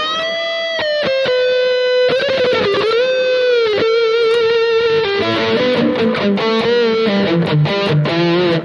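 Electric guitar played through a distortion pedal model on a Hotone Ampero 2 Stage, loud sustained lead notes and bends with thick saturated tone, later moving into busier riffing.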